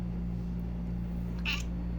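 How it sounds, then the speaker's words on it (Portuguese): A pet cat lets out one short, close meow near the end, over a steady low electrical hum. "A minha gatinha tá aqui."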